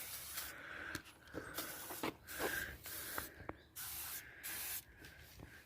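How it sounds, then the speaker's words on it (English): Short bursts of degreaser spray hiss across Yamaha MT-10 motorcycle parts, several separate pulls of the trigger with brief pauses between them, close and fairly loud. "I'm just going to spray it."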